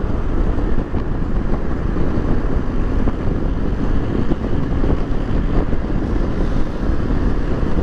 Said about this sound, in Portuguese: Turma de motos, vai passar aí já.